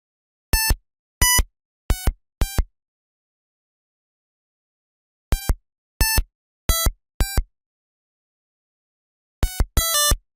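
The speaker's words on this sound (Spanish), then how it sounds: "solo se escuchan pitidos de vez en cuando" Short electronic beeps from a Game Boy Color game come in tight clusters of three or four, separated by long silences, clean and synthetic with no other sound.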